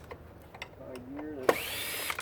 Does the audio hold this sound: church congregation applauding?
no